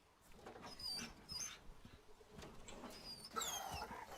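Dog whimpering and yipping in the Resident Evil 4 Remake video game, a string of high, wavering whines and small yelps, fairly faint, with no talk.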